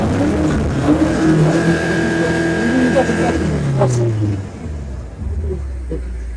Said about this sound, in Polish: Po prostu w odpale panu silnik może sobie pan przegazować.